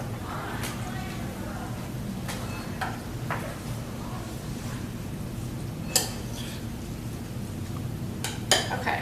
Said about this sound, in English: so we're going to stir this in here